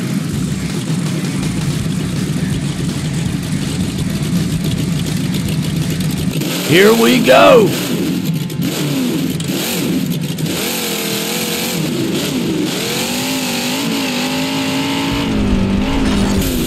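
A Lucas Stabilizer mega mud truck towing a trailer in BeamNG Drive rumbles at a steady engine drone, then revs up with rising and falling pitch, loud and close, while someone talks over it.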